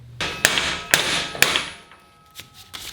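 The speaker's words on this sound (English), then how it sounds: "We're not going to press it, we're just going to use a hammer." Sharp metallic hammer strikes ring out close by, three solid hits followed by a couple of lighter taps, seating a sleeve onto an adjustable link for an 80 Series Land Cruiser.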